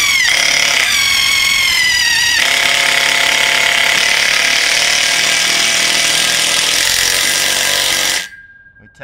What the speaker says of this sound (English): take our self-tapping screws and use the impact drill